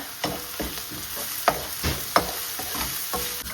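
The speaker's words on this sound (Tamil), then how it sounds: "கருவேப்பிலை சேர்ப்போம் தாளியத்துக்குள்ள" Curry leaves go into hot tempering oil for tomato rice, giving a close sizzle with rhythmic stirring scrapes and a few sharp spoon clinks against the pan.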